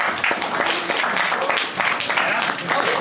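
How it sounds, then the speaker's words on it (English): Steady applause from a convention panel audience at Anime North 2013, dense clapping that holds for a few seconds with a few voices mixed in. "We got applause."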